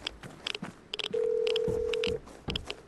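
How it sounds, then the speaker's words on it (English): A telephone rings once in the video game Vigor, a steady electronic tone lasting about a second amid soft footsteps and ambient game noise. "It's your stock standard late ring of a phone."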